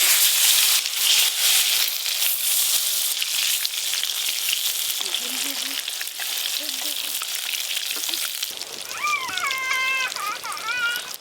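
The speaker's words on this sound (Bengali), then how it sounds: "মশলা মাখানো বেগুন কড়াতে দিয়ে দেব" Spiced eggplant hits hot mustard oil in a wok, a loud continuous sizzle and crackle that holds steady, with a few soft clinks and a cat meowing faintly near the end.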